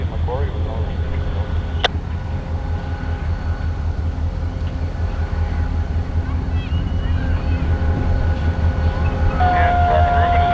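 Battle River Railway freight locomotive rolling along the track with a steady low rumble and rhythmic wheel clatter, close and continuous, while radio dispatcher voices talk over it and a brief tone sounds near the end.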